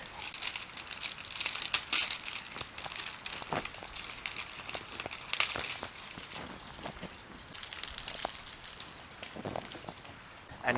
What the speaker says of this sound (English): We can peel back the plastic.